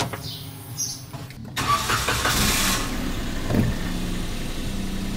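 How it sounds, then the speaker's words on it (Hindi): A car engine cranks and catches at an early morning departure, then settles into a steady near idle that runs to the end. "गाड़ी स्टार्ट"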